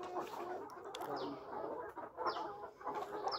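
Layer chickens cluck continuously on a poultry farm, a dense, steady flock chatter with a few sharper calls standing out, no talk over it.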